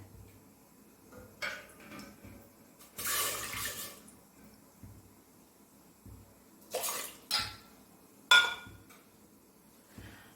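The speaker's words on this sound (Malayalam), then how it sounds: "അതിന് വേണ്ടി ഒരു കുക്കർ അടുപ്പത്ത് വെച്ചു അതിലേക്ക് കുറച്ച് വെള്ളം ഒഴിച്ചു കൊടുക്കാം" Water is poured into a pressure cooker on the stove, heard as a few short splashing bursts separated by quiet gaps, close by and fairly soft, with no talking.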